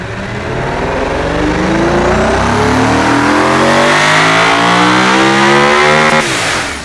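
A virtual supercar engine in the car-building game Automation revs hard to its 9,300 RPM limiter, a loud, harsh, rising wail with stacked harmonics held steadily for several seconds before cutting off abruptly.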